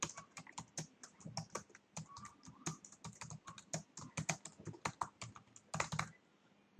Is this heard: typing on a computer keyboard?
yes